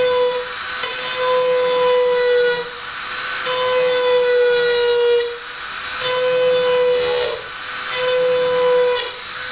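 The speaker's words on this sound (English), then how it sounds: "as I hold the Dremel, I align the axis of the Dremel with the hole" A Dremel rotary tool spins at high speed while drilling a hole, a loud steady whine with sustained tones that dips and swells in several passes, with no talk.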